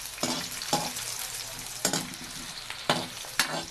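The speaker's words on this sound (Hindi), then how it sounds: "प्याज को अच्छी तरह फ्राई करेंगे।" Onions fry in a pan with a constant sizzle, broken by several sharp scraping stirs spaced unevenly through the clip, close and fairly quiet with no talking.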